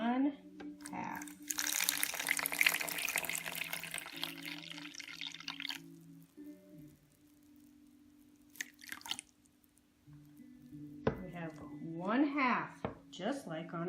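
Tap water running into a measuring cup, a close, bright rushing hiss lasting about four seconds before it stops. A tonal voice-like sound follows later.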